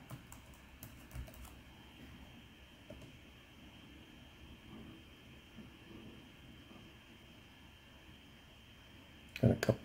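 Light typing on a Lenovo ThinkPad T570 laptop keyboard during a Windows 11 install, a few faint quick key clicks early on over a low steady hum, with a louder clatter of keys at the very end.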